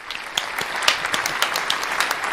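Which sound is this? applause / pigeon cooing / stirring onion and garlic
applause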